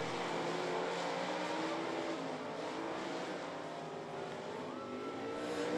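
Race cars in a four-lap dash at I-75 Raceway roar around the track in a steady, distant drone with engines blending together, faint and constant throughout, with no voices heard.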